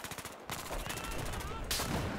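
Rapid automatic fire from an AS Val rifle in Battlefield's Siege of Shanghai map, sustained bursts of close, loud shots across the whole stretch, with a voice briefly talking underneath.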